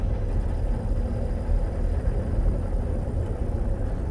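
A 2019 Seat Ibiza on the move, its gearbox giving off a steady low rolling rumble and whir that runs continuously and evenly throughout, with no talk over it.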